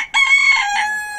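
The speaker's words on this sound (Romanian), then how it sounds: "Da, cocoșul, da." A rooster at a zoo in Târgoviște, Romania, gives a single loud, close crow, a bright strained call holding steady for about a second before trailing off, with no talk over it.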